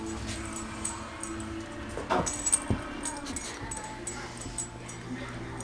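A puppy whimpers and yips faintly in short, scattered cries over a quiet indoor background.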